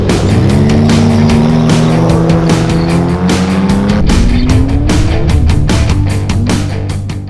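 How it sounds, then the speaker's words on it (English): Off-road race cars at the Perenjori 360 desert race, engines roaring loud and close with rising and shifting revs, broken by repeated sharp bursts as they power past. "As racing got underway, Darren Agrella prologued in first place and"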